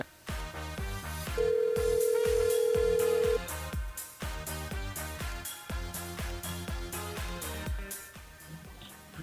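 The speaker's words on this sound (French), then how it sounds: "On appelle Claudia" A telephone rings in a radio studio as the host calls a listener, with a sustained electronic ring tone over rhythmic background music.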